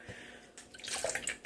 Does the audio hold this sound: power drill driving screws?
no